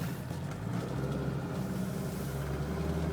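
A Mercedes-Benz 300D engine runs with a steady, quiet low drone, an even mechanical hum holding without change for a few seconds and no one speaking.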